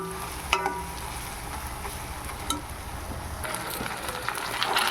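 Chopped tomato goes into a pan of frying ginger and garlic for a Rayalaseema mutton curry, giving a soft, steady sizzle with a few light clinks and stirring scrapes, fairly quiet and close.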